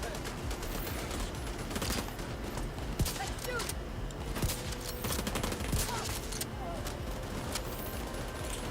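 Gunfire in the shooter game The Division 2, repeated shots and bursts at moderate distance within dense, continuous combat noise, with talking over it.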